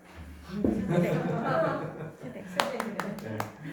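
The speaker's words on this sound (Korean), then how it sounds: "벌써 박수를 치시네" Church congregation in Korea clapping in a burst of applause that mixes with light chuckles and someone talking, then a few sharp separate claps near the end, all fairly close.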